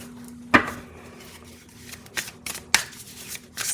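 Oracle cards being shuffled, with a few crisp riffling bursts against a quiet background and a faint steady hum, close and soft.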